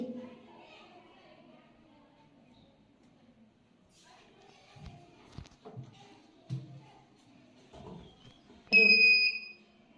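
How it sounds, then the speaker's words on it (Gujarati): Electronic buzzer on an Android-linked glucose bottle level stand goes off when the bottle drops below 20 percent, a loud, shrill tonal beep near the end after quiet talk and a few soft knocks. "જુઓ સર, અહીં બઝર વાગે છે."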